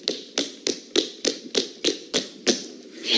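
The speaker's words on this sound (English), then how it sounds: "Then there's fast walking, sounds like this." Fast walking footsteps come in a quick, regular run of about ten taps. Each step is crisp and fairly close, with little else around them.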